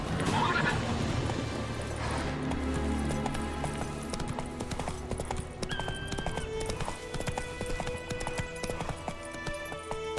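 A horse in The Witcher 3 neighs loudly at the start, then its hooves clip-clop at a trot under layered game music and ambience, with the rhythm steady and fairly close.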